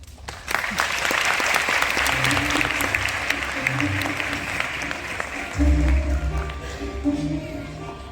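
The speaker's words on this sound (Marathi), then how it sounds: "तुमच्यासाठी टाळ्या" Theatre audience applauding in a Marathi drama auditorium at the final performance of a play, a steady clapping crowd that swells loudly, with a voice speaking over it near the start and a louder burst near the end.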